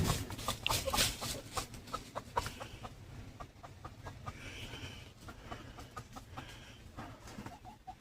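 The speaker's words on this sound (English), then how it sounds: "These chickens, they crack me up." Chickens cluck in short, scattered bursts at a moderate distance, with a few sharper calls mixed into a quiet farmyard background.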